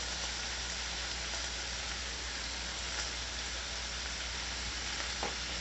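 Bacon frying on a stovetop makes a steady, dense crackling sizzle like rain, holding constant and fairly quiet throughout with no voices.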